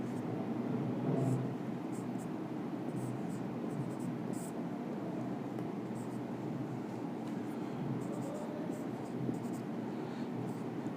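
A pen scratches on paper during a Class 10 trigonometry maths lesson, faint continuous writing strokes with quiet background hum and soft mouth noises, no clear talk.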